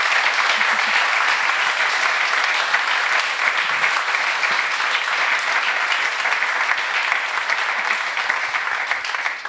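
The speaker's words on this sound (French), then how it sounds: "Je crois que le public peut encore vous applaudir fort." A studio audience at a French television show applauds loudly, thick continuous clapping holding strong for nearly ten seconds before tapering slightly at the end.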